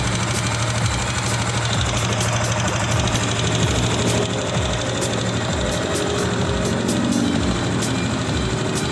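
A Yamaha Sniper 155 motorcycle engine runs at a steady idle with a fast, even ticking and knocking noise from the engine, loud and close with no talk over it.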